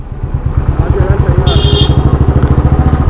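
Royal Enfield Bullet motorcycle engine idling close by with its characteristic steady, rapid thumping pulse, loud and continuous, briefly joined by a faint high tone in the middle.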